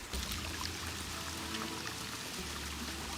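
Dnieper water rushes along the North Crimean Canal in a loud, continuous, dense flow, heard close by and alone.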